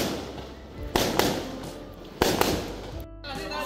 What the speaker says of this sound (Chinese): 我一来到就看烟火了